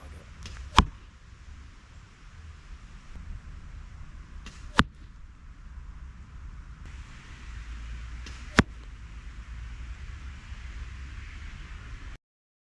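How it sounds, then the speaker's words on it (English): Arrows shot at 40 yards at a bag target in an outdoor range setting, three separate sharp snaps spaced several seconds apart over a low steady background hiss. "You can hear them being loosed and you can hear them go past the camera and hit the target."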